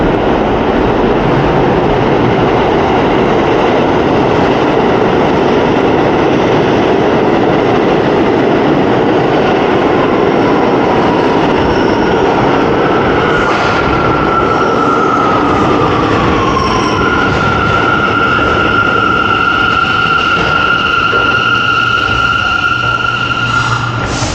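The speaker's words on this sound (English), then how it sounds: "oh, here comes the train." A subway train on the A and C line roars loudly and continuously as it pulls into Nostrand Avenue station, with rumbling wheels and rising metallic squeals and tones.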